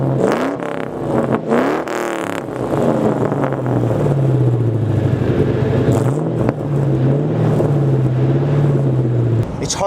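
A Ford Mustang V8 with an SLP Loudmouth LM2 exhaust and off-road X-pipe revs loudly and steadily up close, its deep droning note rising and falling through several throttle blips over about ten seconds.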